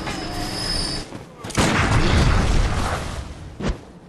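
Gunfire and blasts in Bloodborne, with a sudden loud boom and roaring burst, rumbling ambience and a sharp later crack, mixed with combat effects.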